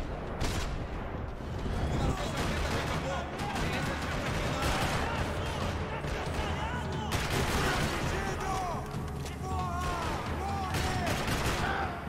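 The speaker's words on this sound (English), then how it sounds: "Another parking lot rattling with gunfire." Dense, continuous gunfire in Max Payne 3, with rapid bursts and scattered booms in a parking lot, sustained throughout amid a busy, loud mix.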